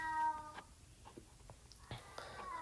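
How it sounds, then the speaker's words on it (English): A house cat meows a few times in the background, short mid-pitched calls rising over a quiet room with faint clatter between them. "I apologize for the cat in the background."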